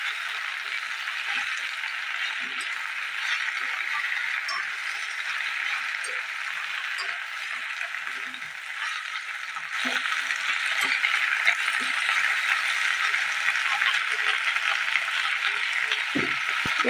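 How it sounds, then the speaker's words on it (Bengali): Ghatkol greens are stirred and fried in a pan with chili and garlic, a soft, steady sizzle with occasional light clinks of a utensil against the pan. "ঘাটকোল শাকটাকে নেড়ে চেড়ে ভেজে নেবো।"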